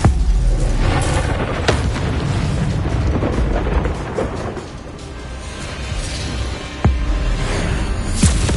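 Spell explosions from the Hogwarts Legacy video game: a dense, continuous barrage of booming blasts and bursts, with sharp cracks standing out near the start and end over a steady roaring rumble.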